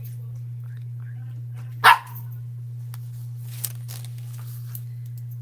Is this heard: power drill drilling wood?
no